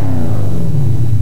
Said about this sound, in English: here's the third stage of the sound of a car accelerating